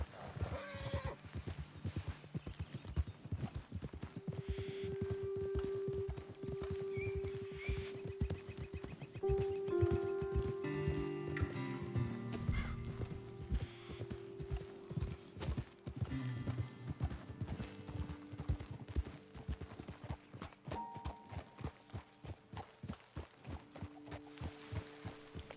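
Horse hooves clip-clop in a steady rhythm through a long stretch in Red Dead Redemption 2, with a soft hum and occasional faint whinnies behind them.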